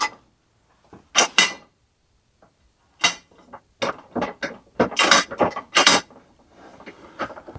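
Metal wall brackets on a folding workbench clack and click as they are locked closed, a series of sharp, close rattling knocks and snaps with short pauses between them.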